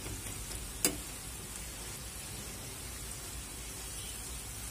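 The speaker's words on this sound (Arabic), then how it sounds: "نغلفها بالزيت السخن وبعد كده نسيبها. هي كده خلاص دخلت في التحمير اهي" Potatoes frying in deep, hot oil make a steady, soft sizzling hiss throughout, with one brief sharp crackle near the start and no voices.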